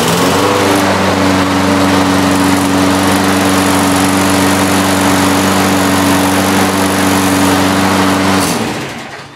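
A Craftsman push lawn mower engine catches and runs, a loud, steady droning hum with a strong tonal buzz that holds evenly for several seconds before cutting off and winding down at the end.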